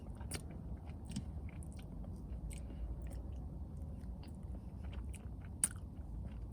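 Chewing and soft crunching while eating a slice of Cinnabon cinnamon swirl cheesecake from The Cheesecake Factory, close and quiet, with steady mouth sounds throughout and one sharper click near the end.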